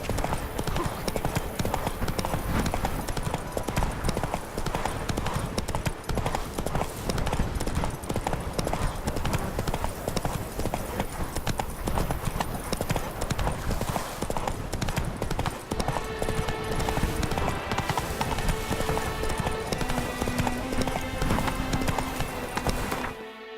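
Hooves of Roach, a galloping horse in The Witcher 3: Blood and Wine, pound in a fast, steady, loud clip-clop rhythm throughout, set against game ambience, with a brief whinny and some talk.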